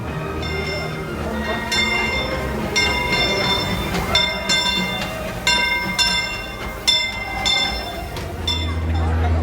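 Disneyland Railroad train pulls into Main Street station with a bell ringing in repeated clangs over rumbling wheels and clanking cars, while people talk nearby.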